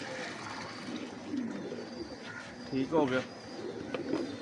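Pigeons at a bird keeper's loft in Lahore coo softly in low, rolling throaty calls, with one clearer coo rising midway, while someone talks nearby and water faintly splashes.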